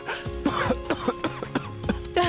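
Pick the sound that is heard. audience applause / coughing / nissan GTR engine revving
coughing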